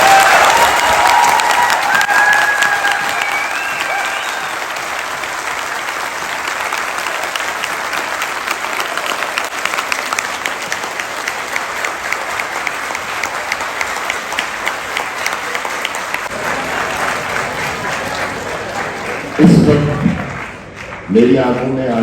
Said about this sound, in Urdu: آج اپنے ٹیچرز کے لیے اتنی تالیاں بجائیے کہ ان کو احساس ہو کیا ہے